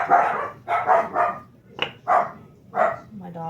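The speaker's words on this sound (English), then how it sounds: "My dogs are barking." Several sharp, loud barks from dogs come in irregular bursts, close by, with short gaps between them.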